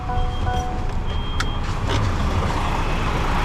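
A truck's engine rumbles close and steady as it reverses underneath a trailer to couple it, with a faint beeping tone and a short hiss of air partway through.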